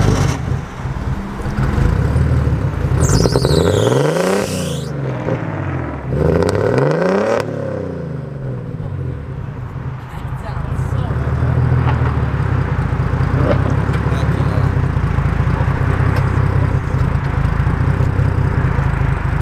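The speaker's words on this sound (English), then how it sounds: "Oh yeah, cold startup. Skyline GTR." Nissan Skyline GT-R engine on a cold start, revving up twice in sharp rising-and-falling sweeps, then settling into a loud, steady rumbling idle up close.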